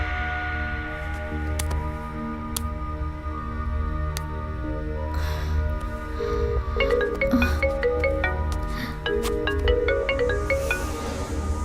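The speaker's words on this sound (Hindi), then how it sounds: "मैंने डायल किया है। ये लोबो का फोन है।" A phone rings after a number is dialed in a horror film, its repeated ring tones sitting over a loud, dense musical score that fills the whole stretch, with no speech.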